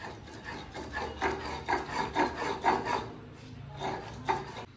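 Spices are ground by hand on a sil-bata grinding stone, a rhythmic close rasping rub of stone on stone, repeated strokes roughly every half second with brief pauses.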